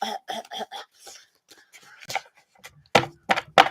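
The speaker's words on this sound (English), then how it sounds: "not too bad, just coughing." A short series of dry coughs, then some throat clearing and a few louder, harsher coughs close by.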